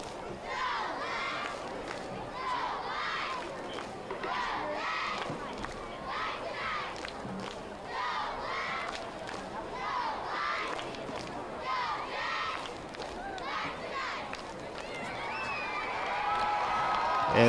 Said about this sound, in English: Here's a cheer. See if we can hear real quick.